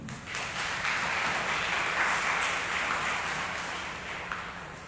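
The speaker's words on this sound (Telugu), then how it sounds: "చప్పట్లు కొట్టరా." Applause fills a church during a Tuesday Mass: a sustained wash of many hands clapping together for several seconds that slowly fades near the end, with no speech over it.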